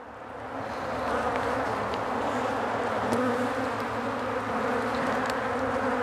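Honey bees buzz inside an overwintered nucleus hive, a dense steady drone close by with no voices.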